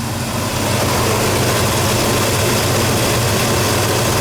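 A Pontiac V8 with a rear water crossover mod runs steadily, a loud, continuous rumbling drone of firing cylinders with no voices over it.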